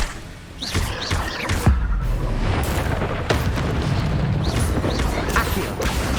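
Confringo spell blasts in Hogwarts Legacy: several sharp booming explosions, heaviest near the start, set against a busy, continuous combat din of crackles and impacts, close and loud, with no talking.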